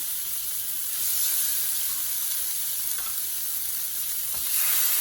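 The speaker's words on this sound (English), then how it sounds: "So they only get cooked a few minutes on one side and a few minutes on the other." Lamb chops frying in a pan of oil, a loud, dense hissing sizzle close up that swells and eases slightly, steady throughout with no talk.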